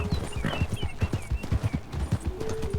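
Horse hooves clip-clop steadily in a quick, loud rhythm during a ride in a video game, with occasional whinnies and faint other sounds mixed in.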